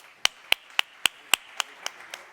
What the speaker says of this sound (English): And a round of applause as well from John Chamberlain